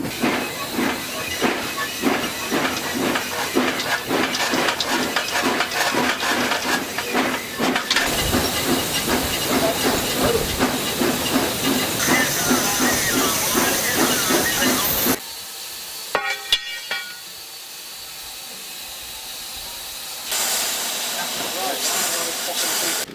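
Steam locomotive heading for McAllisburg station, hissing loudly and steadily with rhythmic chuffing pulses for about fifteen seconds before a sudden drop to quieter hiss, a few sharp clanks, then a renewed soft hiss.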